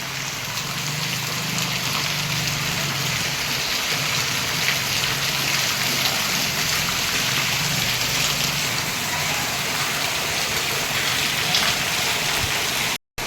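Steady heavy rain pours down without a break over a residential housing complex, a dense continuous hiss of water hitting surfaces, with no voices.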